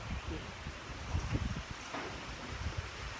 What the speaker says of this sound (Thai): เห็นไหมลมทุกคนเห็นไหม